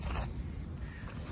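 A zipper on an UpCamp rooftop tent from Campings World is drawn closed in a short, faint rasping pull over low background rumble.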